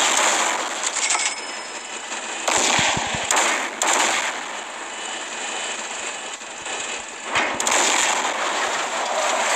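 Rapid bursts of gunfire in a shooter video game, loud and dense with short pauses between volleys over a steady background roar.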